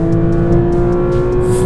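A Porsche GT3 RS flat-six engine roars steadily at high revs under full throttle, a strong droning tone held throughout the short stretch, close and loud with no voices.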